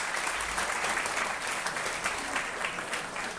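A school audience at a high school event applauds its teachers with loud, dense, sustained clapping that continues unbroken throughout.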